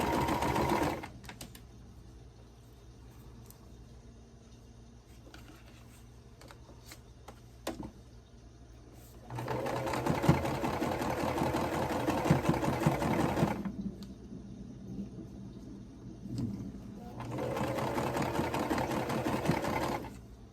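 A sewing machine runs in bursts while stitching quilt block seams for a designer mystery block, with steady whirring runs separated by pauses, close and clear, with no talk.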